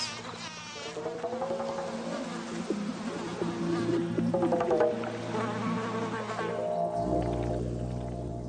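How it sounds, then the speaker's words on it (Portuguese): Bumblebees and other insects buzzing among garden flowers mid-bloom season, several overlapping wingbeat drones rising and falling close by, continuous throughout with no voices. "há muita atividade de insetos, todos competindo entre si pela mesma limitada fonte de néctar"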